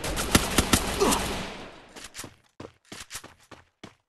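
Sharp video-game gunshots crack in quick bursts, a few close loud shots first, then scattered quieter pops spaced irregularly with short silences between.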